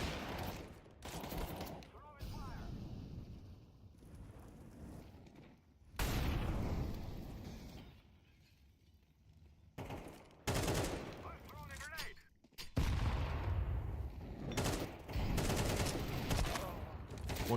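Rapid bursts of video-game gunfire during a live shooter match, loud and close, coming in several dense volleys separated by short lulls, with voices talking among the shots.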